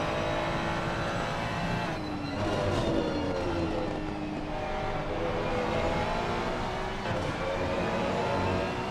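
Porsche GT3 race car engine in Assetto Corsa Competizione, a continuous loud whine climbing and dropping with shifts and braking throughout, no talk over it.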